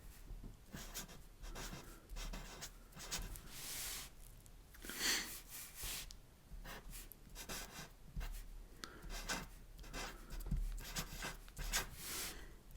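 Pen or pencil writing on paper during a Spanish-and-art lesson, a close scratchy sound of strokes in irregular bursts with short pauses between words, steady and fairly quiet with no talking.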